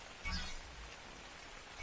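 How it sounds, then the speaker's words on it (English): Steady rain falls in the Ark: Survival game world, a soft continuous hiss of drops that runs the whole stretch at low level, with a brief low thump near the start. "I hate when it rains in this game sometimes."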